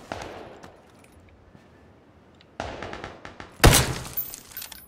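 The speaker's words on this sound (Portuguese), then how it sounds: "tem um cara atirando aqui na minha esquerda já" Gunfire in PlayerUnknown's Battlegrounds: a quiet stretch with faint scattered pops, then a rattling burst of shots and a loud, sharp crack near the end that sounds close.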